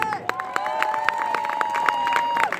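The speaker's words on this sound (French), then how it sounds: "Monsieur Laurent Ier et Nathalie, je vous demande d'ores et déjà de les applaudir s'il vous plaît." A carnival crowd claps and cheers for the newly introduced prince and his partner, with sharp handclaps and shouts over a steady sustained tone, voices mixed into the din.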